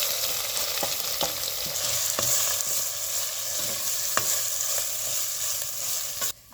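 Ground spice paste of mustard seeds, cumin, fenugreek and garlic sizzling steadily in a pan while being roasted for kadhi, with faint scrapes and light stirring clicks throughout.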